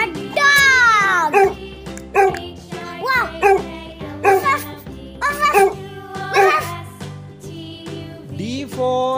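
A dog barks and yips in a series of short, bright bursts at an irregular pace, close and loud, with a child-like voice mixed in among the barks.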